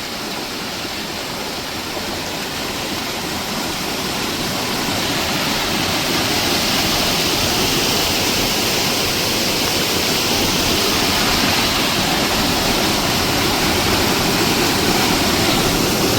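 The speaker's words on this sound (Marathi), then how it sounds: "नदीला पाणी आलं आहे खूप" A steady, loud roar of a flooded river rushing at a bridge in Furus village near Dapoli after heavy rain, constant and broadband throughout, swelling slightly partway through with no voices.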